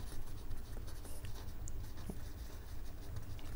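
Quiet, continuous scratching of writing on a board during an accounting lesson, steady strokes with faint room noise and no talking.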